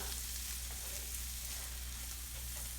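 Spice powders roasting with onion in a pan for a Kerala-style egg curry, a faint, even hiss of frying with no distinct stirring hits.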